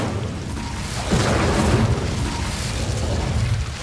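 An Incendio fire spell is cast in the Hogwarts Legacy video game, a whooshing, roaring burst of flame that swells after a second and holds as a dense rumble.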